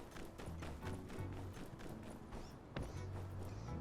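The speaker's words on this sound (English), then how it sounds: "My horse is following me." Horse hooves clip-clopping in the video game My Time at Sandrock as the horse follows the player, a steady quiet trotting beat over game music and ambience.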